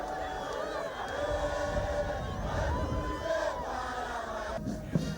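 A crowd in Lusaka, Zambia, cheers and shouts for President Edgar Lungu's arrival at the Olympic Youth Development Center, producing a steady, dense roar of voices with whoops throughout.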